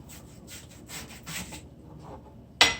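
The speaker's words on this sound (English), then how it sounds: "Now I'll be cutting the onions in ring." Knife slicing an onion into rings, soft rhythmic crunchy cuts close up, ending in one sharp knock of the blade hitting the board.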